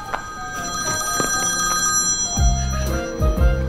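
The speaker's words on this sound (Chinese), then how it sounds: "谁电话响啊？ 好像是我的。" A mobile phone rings loudly and close by, playing a repeating melodic ringtone of bright electronic tones that grows fuller partway through, with no voices over it.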